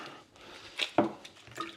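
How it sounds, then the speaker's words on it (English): Frozen blocks of bone broth drop into a sink full of hot water, giving a couple of short splashy plops and drips close by, with no talking. "Got this sink full of hot water. Gonna throw these in there."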